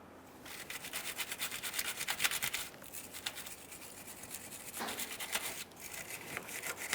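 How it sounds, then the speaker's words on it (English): A wire brush scrubs back and forth over the four-wheel-drive switch mounting area on a 1994–2001 Dodge Ram 1500 pickup, a close, rhythmic rasping that pauses briefly between strokes, with no speech. "You can use a wire brush or some parts cleaner, whatever is best for you."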